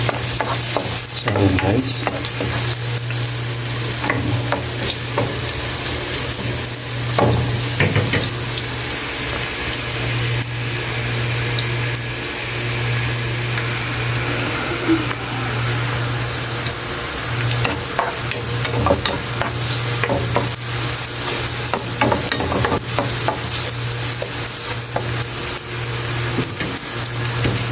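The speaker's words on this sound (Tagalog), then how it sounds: "Kaya muna natin guys na mag golden brown yung garlic natin and yung ating ginger or luya." Garlic and ginger fry in oil toward golden brown for squid adobo, a steady close sizzle running throughout with occasional stirring scrapes, and a brief spoken remark near the start.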